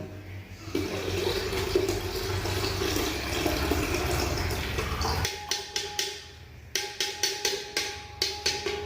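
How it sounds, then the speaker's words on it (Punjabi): Tamarind water for golgappa pours steadily for about five seconds, then a series of light clinks and taps follow in a quick, uneven rhythm. "ਆਪਾਂ ਪਾਇਆ ਜੀ ਇਮਲੀ ਵਾਲਾ ਪਾਣੀ"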